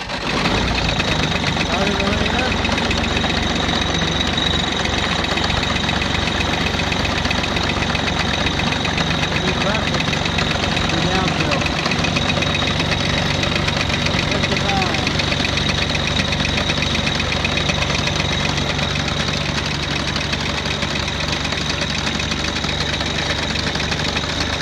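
Diesel compact tractor engine turning over on a 1000 amp portable jump starter with the battery disconnected, then idling steadily with a continuous knocking rumble for the whole stretch, close and loud.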